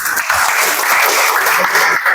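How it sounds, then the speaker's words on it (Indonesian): Classroom applause from a group of students, steady clapping filling the room for about two seconds at full volume, with no voices standing out. "Tepuk tangan untuk kita semua."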